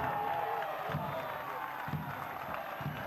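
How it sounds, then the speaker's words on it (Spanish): Crowd noise with scattered applause for a team at a 2011 football match between Fénix and Universidad de Chile, a steady distant stadium wash under a commentator's voice. "Aplausos al sacrificado conjunto de Parque Capurro"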